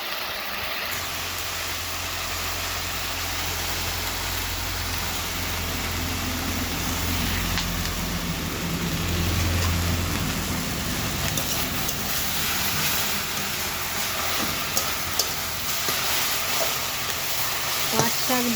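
Jute leaves cooking with matar dal in a pan, stirred steadily under a constant sizzle, with a low engine-like hum running underneath throughout.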